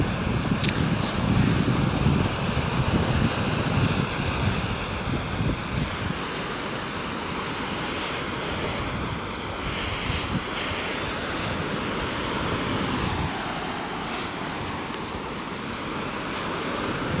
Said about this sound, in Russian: Классный пляж здесь у Вайт Голда